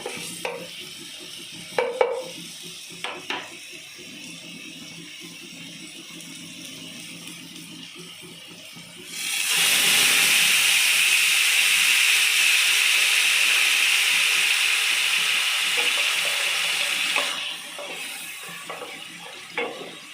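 Masala hits hot oil for pan-frying, a loud, steady sizzle that surges in suddenly, holds for several seconds, then fades back to quieter clinks and stirring in a home kitchen.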